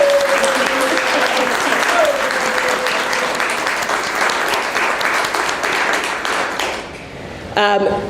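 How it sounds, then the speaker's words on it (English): A crowd at a state announcement of early childhood education apprenticeship grants breaks into loud, sustained applause, with a voice speaking briefly over it early on, before the clapping thins and a few taps end it. "So let's give a round of applause."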